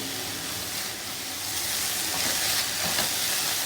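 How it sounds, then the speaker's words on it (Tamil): Tomatoes sauté in a pan for a karunai kizhangu masiyal, giving a steady, close frying sizzle and hiss that runs continuously with faint stirring. "ஸோ தக்காளி நல்லா வதங்கட்டும் ஃப்ரெண்ட்ஸ்"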